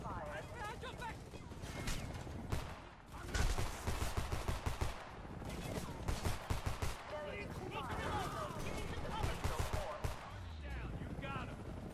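Gunfire in the Homefront video game: rapid bursts of automatic rifle shots crackle repeatedly over game voices and background noise, dense and fairly loud throughout.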